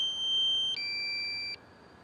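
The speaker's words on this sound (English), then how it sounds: "when the battery is low, it beeps like that the whole time" Two steady electronic beep tones, one after the other, a DJI Mavic Pro drone's high-pitched low-battery warning sounding briefly and then stopping, faint, with no talk.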